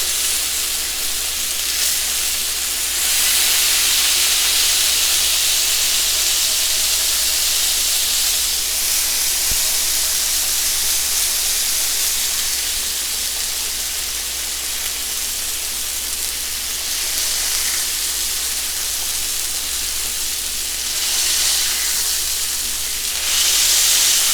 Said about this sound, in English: Alright, I'm gonna smash this guy here.